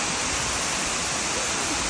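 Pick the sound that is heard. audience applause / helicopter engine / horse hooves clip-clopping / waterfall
waterfall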